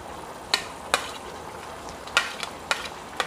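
Sliced big onions and three chillies for chilli chicken fry in a pan with a soft, steady hiss, broken by several sharp stirring scrapes close by.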